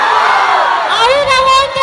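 A live crowd at a college concert in Krishnai shouts and cheers loudly, a dense wall of voices with whoops and yells swelling throughout, close and continuous.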